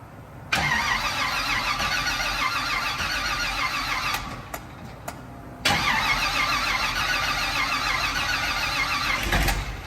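A car engine cranks and fires after fuel priming, then runs at a steady, loud idle close by, briefly stumbling and dropping before catching again and continuing to run.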